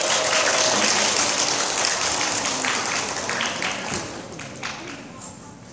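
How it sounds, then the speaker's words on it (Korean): A group of elementary school students and parents gives a burst of applause at an orchestra summer camp, loud at first and gradually thinning out, with some voices mixed in. "박수 한번 보내주세요."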